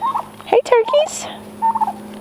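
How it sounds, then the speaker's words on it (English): Turkeys gobble loudly nearby in a few rapid, warbling bursts with short pauses between them, the calls standing alone. "Oh, hey turkeys."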